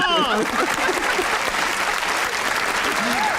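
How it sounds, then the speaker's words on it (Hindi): A studio audience at a Hindi-Urdu comedy talk show breaks into loud, continuous applause during a cast introduction, with voices and laughter riding over the steady clapping. "तालियां!"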